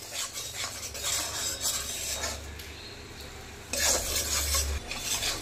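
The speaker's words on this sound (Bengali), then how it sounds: "বেসনটাকে কিন্তু সুন্দর করে কাঁচা গন্ধ যাওয়া পর্যন্ত ভালো করে নেড়ে চেড়ে ভেজে নিতে হবে" Gram flour (besan) is stirred and roasted in a pan over a low flame, giving soft continuous scraping and rubbing from a spoon against the pan, close and fairly quiet, with a faint low hum underneath.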